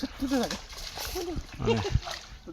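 A fishing net is thrown into a pond, landing with splashing and sloshing water while someone talks over it throughout.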